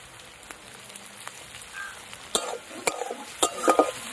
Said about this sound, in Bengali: এই পেঁয়াজটা আর এই রসুনটা একদম লাল করে ভেজে নিতে হবে